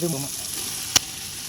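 Steady hissing sizzle of tomatoes and chillies frying in a pan for quail biryani, continuous and close, with a brief clink partway through.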